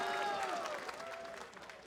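An esports arena crowd at a 2018 NA Spring League of Legends match between 100 Thieves and TSM cheers and applauds in a brief, steady wash of clapping, with tonal sound layered over the top.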